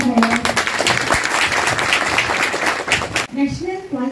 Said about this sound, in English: Big clap for her.